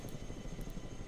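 A transport helicopter in the war game Broken Arrow whirs with a steady, faint rotor drone and soft rhythmic blade chop throughout, with no voices.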